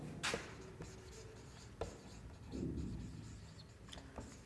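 Chalk or a marker scratches across a board in short strokes and taps while a chemistry formula is written, a close, soft scraping with small pauses and no voice over it.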